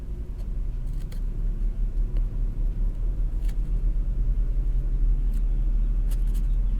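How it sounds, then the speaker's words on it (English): A truck passing outside a room, heard indoors as a continuous low rumble that builds gradually and stays heavy, with a few faint clicks on top and no talking. "it never fails when I'm creating a video when a truck goes by"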